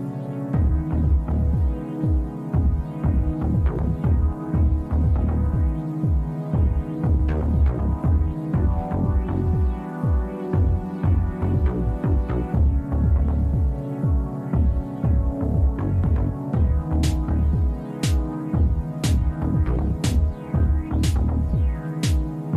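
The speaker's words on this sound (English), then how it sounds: "So I love the serger, and it's fast too." A serger sewing machine stitching a waistband on high-waisted shorts, with a fast, steady mechanical throbbing whir in close repeated runs. Brief pauses separate the runs, and a few light clicks come near the end, with no talking.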